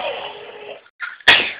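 A single close sneeze with a breathy intake, then a sharp, loud burst.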